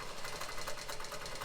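A longarm quilting machine stitches continuous curves across a quilt, giving a steady, fast mechanical whir with a fine rhythmic pulse that runs without a break.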